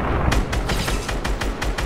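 Rapid bursts of SCAR rifle gunfire in the video game Fortnite, a steady string of sharp repeated shots at an even rhythm, loud and up close with no talking.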